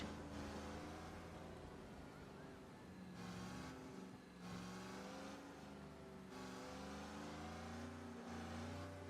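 A long vintage limousine-style car's engine drones and revs in Mafia: Definitive Edition, a steady tonal hum that rises and shifts pitch as it accelerates and changes gear, fairly quiet in the background.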